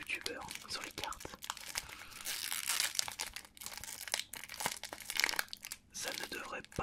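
BattleTube trading card booster packs being torn open, foil wrappers crinkling and rustling close up in dense, continuous bursts with brief pauses, a whispery French ASMR voice faintly in the background.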